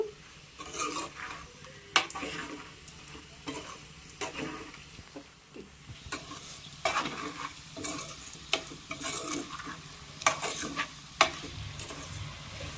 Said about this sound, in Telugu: మీడియం ఫ్లేమ్లో పెట్టి ఒక 5 నిమిషాలు ఫ్రై చేసుకోవాలండి, కారం పచ్చివాసన పోయిన వరకు